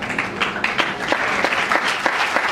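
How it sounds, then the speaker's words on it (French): Steady applause from an audience of students at a women's month closing event, moderate and continuous with some individual claps standing out, no speech over it. "Vos applaudissements, merci"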